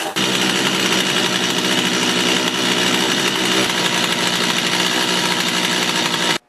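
A Stihl MS250 chainsaw with a freshly repaired pull cord runs loud and steady at close range, a continuous engine drone that holds without pause for several seconds before cutting off abruptly.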